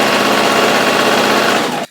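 A sewing machine stitches a cropped puffer jacket, running as one fast, continuous, close mechanical whir that stops abruptly at the end.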